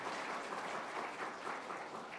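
A church congregation applauding children of the elementary department during a Sunday worship service, dense steady clapping from a large crowd filling the room without pause.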